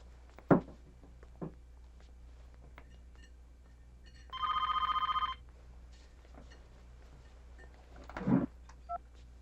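A telephone rings once in a short, buzzy electronic burst and goes unanswered, with faint thumps and movement around it in an otherwise quiet room.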